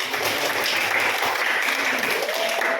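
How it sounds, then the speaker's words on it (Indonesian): A group applauds together in a classroom meeting, a dense, steady wash of many hands clapping for about three seconds without a break. "Oke, tepuk tangan kita semua."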